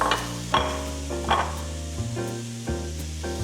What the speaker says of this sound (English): Once it's browned, I take it off the pan and I put my sofrito, which is celery,